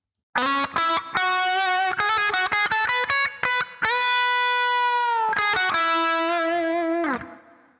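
A distorted electric guitar plays a quick lick of choppy notes from a song's solo, then holds a long sustained note, more fast notes, and a fading final tone.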